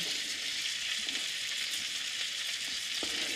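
Food sizzles steadily in a frying pan, a constant close hiss with a few faint clicks and no voices.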